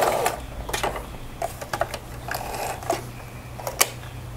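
Sewing machine backstitching along a fabric strip, stopping and starting in short bursts of mechanical stitching, close and fairly quiet, with no voices.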